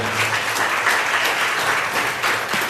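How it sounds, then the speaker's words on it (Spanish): A church congregation at a Spanish-language general service claps in praise, a full, steady roar of many hands filling the sanctuary without a break. "Vamos a dar un aplauso a Jesús, al Cordero de Dios."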